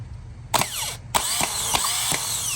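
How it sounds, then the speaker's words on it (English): A Honda Civic starter motor, bench-jumped with power, whirs in short bursts as its gear pushes out and spins, three or four sharp spin-ups with a gliding whine, close and loud. "when I jump power into it, you're gonna see the starter, the gear right here is gonna push out and spin"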